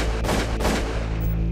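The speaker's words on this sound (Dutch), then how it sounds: "Het enige wat je hoorde was geschreeuw en schieten." Dense, loud gunfire fills a reconstruction of a 1945 prison liberation, a continuous roar of overlapping shots and heavy blasts with no pauses or voices.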